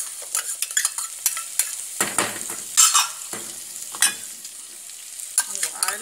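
Onion hits the pan of fried bacon and calabresa sausage fat, bursting into crackling sizzles and spattering pops, followed by scrapes of stirring and clinks of a utensil against the pan.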